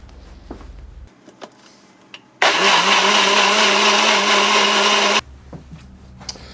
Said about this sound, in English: So that's the soup blended nice and smooth.